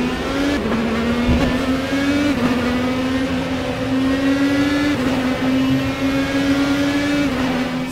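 Race cars in the Raceroom racing game roll into a flying start at Indianapolis, with a loud, sustained engine drone that climbs in pitch through several gear changes and the cars bunched close together.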